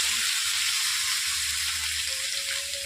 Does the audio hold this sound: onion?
yes